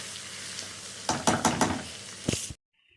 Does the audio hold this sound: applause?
no